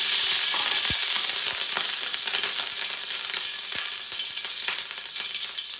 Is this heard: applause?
no